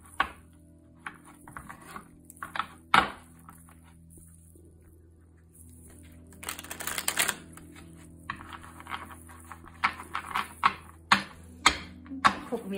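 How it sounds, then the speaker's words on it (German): A tarot card deck is shuffled by hand, with soft riffling and crisp card taps and slaps coming in scattered bursts over a quiet room hum. "Und ich fange direkt mal an, die Karten zu mischen."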